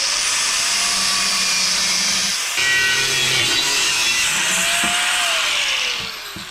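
A power saw cuts through a metal plate for a bracket, one steady buzzing cut that breaks off briefly and then resumes with a falling whine as it finishes.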